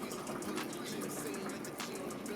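A drink is poured into a glass, a continuous splashing trickle heard up close with faint voices in the background.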